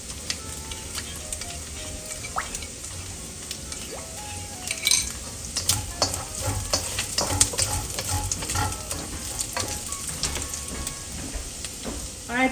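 Chili-garlic sauce sizzles in a pan as a utensil stirs and scrapes through it, with steady frying crackle and intermittent clinks of metal against the pan, close and moderately loud.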